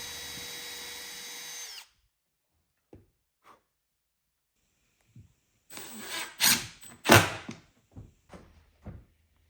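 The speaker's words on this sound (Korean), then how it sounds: "이제 다리에 구멍을 내고 팔자 철물을 달아줍니다." A power drill bores holes into the wooden legs of a monitor stand. A short whirring burst comes first, followed by quiet handling taps and then a few more drill bursts close by, with no talking.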